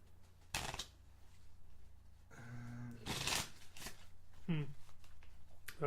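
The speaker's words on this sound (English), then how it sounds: "I'll shuffle them into my deck" A deck of Netrunner cards being shuffled during a board game, giving a couple of brisk riffling bursts among quieter handling, with short bits of talk in between.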